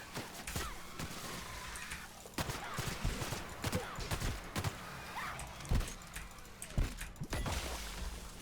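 Gunfire in The Outer Worlds, a sci-fi shooter: scattered sharp shots and thuds burst out irregularly against busy combat noise throughout, moderately loud.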